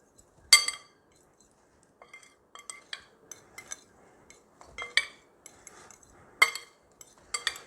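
Dry ingredients for keto macadamia nut cookies get stirred in a bowl, with sharp, scattered clinks of a utensil against the bowl separated by quiet gaps.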